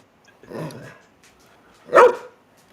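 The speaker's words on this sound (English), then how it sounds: "Stop barking." A dog gives a soft low bark, then a sharper, louder bark a moment later, with quiet pauses around them.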